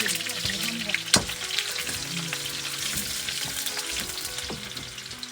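Green chilli, onion and garlic fry in a pan with a steady crackling sizzle throughout, broken by a sharp stir or clank near the start, with no talk.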